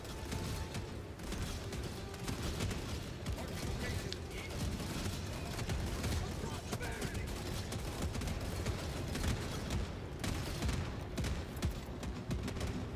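Dense, continuous bursts of rapid mortar explosions and gunfire crackle without pause, loud and chaotic, like sustained battlefield fire, in the video game Helldivers 2.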